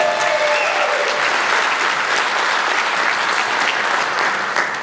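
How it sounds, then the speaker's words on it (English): Loud, sustained applause from a large audience at a jazz camp concert, dense clapping that holds steady throughout without a break. "How about one more round of applause?"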